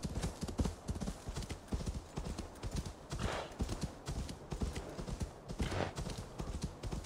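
Hooves of a ridden horse in Assassin's Creed Valhalla, a steady galloping clip-clop that keeps a brisk rhythm throughout, fairly close, with occasional snorting breaths and no talk over it.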